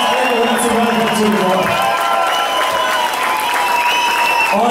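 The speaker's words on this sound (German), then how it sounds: "gebt dem Erik mal einen Applaus" Party crowd in a club clapping and cheering for Erik at a DJ event, a loud sustained wash of applause with shouts, and voices talking over it.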